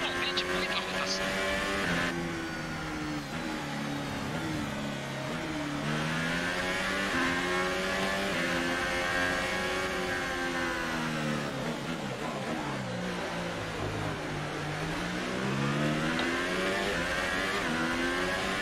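A Formula 1 race car engine in F1 2018 revs and climbs through the gears, its pitch sweeping up and dropping with each shift, loud and continuous, with a voice talking over it.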